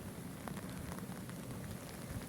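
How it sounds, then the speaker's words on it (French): Heavy rain falls steadily beside a canal, a dense, even hiss of drops with no break throughout. "malheureusement il pleut beaucoup en ce moment."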